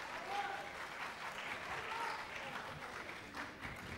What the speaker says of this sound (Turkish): Çok kişiye nasip olmaz Bülent Ersoy'un ayakta alkışlaması.